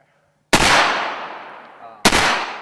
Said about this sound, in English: Shotgun shooting, rifle shooting.